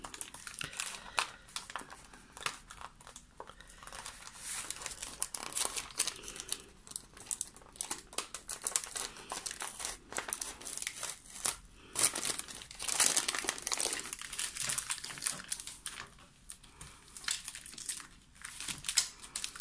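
Homemade rice paper sheet peeled slowly away from its surface, giving a continuous soft crinkling and crackling with brief louder tearing bursts, close and alone.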